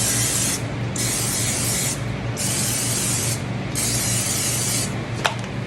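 Four hissing bursts of cooking spray, each about a second long and evenly spaced, close by with a steady low hum underneath.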